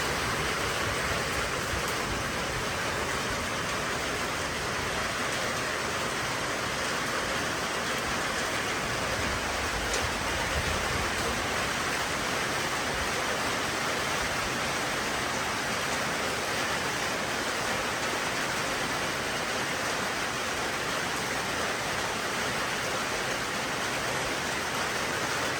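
Steady rain falling over a rural field, a dense, even hiss that holds without letup for the full length, with no voices.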